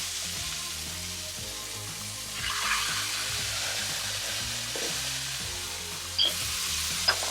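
Mexican rice frying in a pan as a thick paste is stirred in, a steady sizzle that flares louder when the paste lands, with faint scraping and stirring close by.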